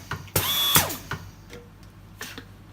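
An AC-1 bench model jar capper runs in brief mechanical bursts, a loud whirring spin with rattling, ratchet-like clicks, followed by quieter clunks and short whirs, close by with no talk.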